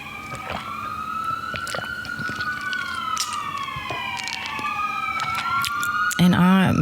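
Emergency vehicle sirens wail outside, a long rising and falling tone with overlapping higher sirens, fairly loud and steady, with a voice speaking briefly near the end.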